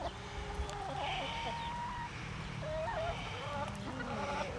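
A hen on a farm clucks to call her chicks hidden under a coop, with repeated short clucks and calls nearby over a steady outdoor background hum.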